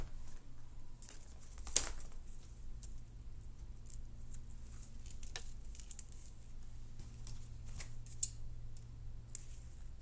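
Scissors snip through basketry strands in close, crisp single cuts scattered irregularly, with one louder snip early on, over a low steady room hum.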